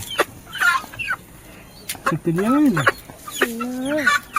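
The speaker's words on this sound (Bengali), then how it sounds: "দিয়ে এসে আমি কিছু মুরগি নিয়ে এসছি" Chickens bought at a market in Uluberia cluck and squawk close by in a string of sharp calls, a few short ones and then longer rising and falling squawks, over faint background noise.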